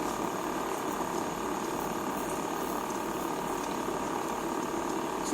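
Steady bubbling and churning of water at a rolling boil with spaghetti cooking in it, a continuous low rumble with fine crackle, close and unbroken throughout.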